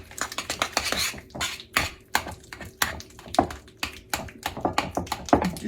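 Spoon stirring a thick broccoli and chicken casserole mixture in a dish, with irregular clinks and scraping taps against the bowl, close and fairly quiet.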